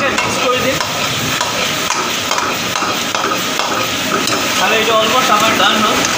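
Octopus stir-fried in a hot pan gives a loud, dense sizzle throughout, with a utensil scraping and tossing the pieces in steady strokes close by.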